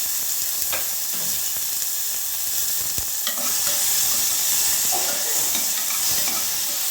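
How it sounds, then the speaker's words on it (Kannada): Chopped tomato frying in hot oil in a pan for thin sambar, a continuous bright sizzle with occasional stirring scrapes and clicks, close and steady with no talk. "ಚೆನ್ನಾಗಿ ಫ್ರೈ ಆಗಬೇಕು"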